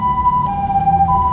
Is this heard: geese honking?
no